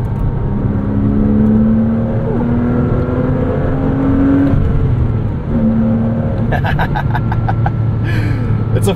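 A 2006 Porsche Cayman S with a six-speed manual gearbox accelerates hard through the gears, its engine note climbing steadily, dipping at each shift and rising again. The sound is close, loud and continuous, with some light ticking toward the end.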